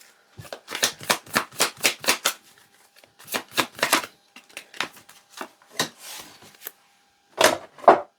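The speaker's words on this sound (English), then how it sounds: "I can't keep these cards in my hand." Tarot-style reading cards are shuffled and handled in quick bursts of crisp riffling and slapping, close and loud, with short pauses and scattered single flicks between them.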